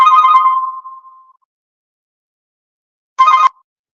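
A phone ringtone sounds loud and close in two separate electronic bursts: a longer ring that fades out, silence, then a short second ring.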